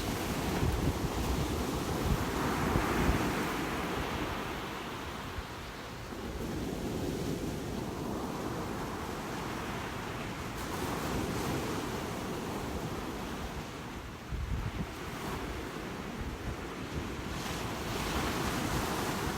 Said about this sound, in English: Listen and look at a couple more of these gorgeous waves.